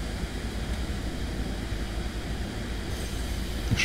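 A locomotive brakes in Train Sim World 4 on the Salzburg–Rosenheim route, with a steady rumbling rail roar and a faint squeal toward the end, heard alone.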